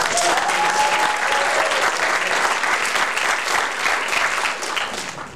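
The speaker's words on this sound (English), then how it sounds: "All right, so everybody give a round of applause," Audience applause at a People's Movement Assembly, a sustained, dense clapping from a large crowd that holds steady for about five seconds and tapers slightly at the end.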